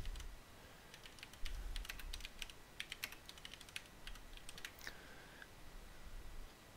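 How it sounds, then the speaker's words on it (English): Rapid clicking keystrokes on a computer keyboard during a lecture, a steady run of crisp, close taps with brief pauses, heard alone at a low level over faint room hum. "Let me type it in here."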